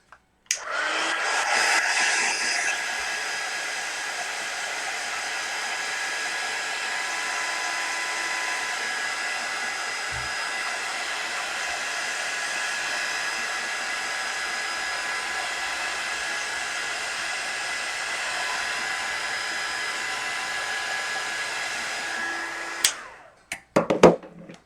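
A hair dryer blows steadily and loudly at close range for about twenty seconds, drying a craft project, then cuts off with a few clicks and handling sounds at the end.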